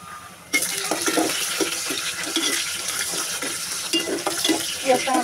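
Green chilies hit onions browning in a pan for a Naogaon-style fish head and potato dish, bursting into a loud, steady sizzle with scraping stir strokes at a regular rhythm, close up and without talk.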